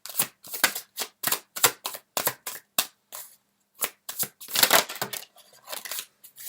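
Tarot cards are shuffled in a quick run of crisp riffling bursts, close and clear, separated by short pauses, with no talking.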